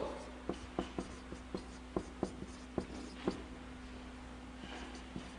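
Chalk or marker strokes on a board during a church sermon, a series of short, quiet taps and scratches in an irregular rhythm with faint room hum behind.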